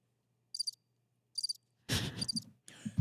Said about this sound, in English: See, play the crickets.